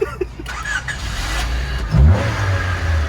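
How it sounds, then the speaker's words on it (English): A Honda Civic's engine revs in short bursts, with a sharp climb near the middle before it settles into a steady idle, close by and loud with no voices over it. "Okay, give it a good little rev."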